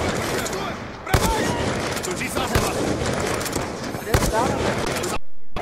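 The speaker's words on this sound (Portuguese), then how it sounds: "Vai dando tiro no cara de pistola." Pistol gunfire in a tactical shooter video game, several loud sharp shots at irregular intervals over a dense, busy game soundscape, with players talking over it.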